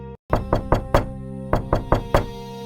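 Knocking on a door for a horror story, two bursts of four sharp, evenly spaced knocks separated by a brief pause, loud and close with no other sound around them.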